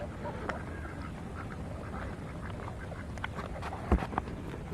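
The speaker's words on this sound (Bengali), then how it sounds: "এগুলো পাতি হাঁস।" Domestic ducks quack in short bursts against a steady outdoor background by the Pohmara River, several calls overlapping near the end.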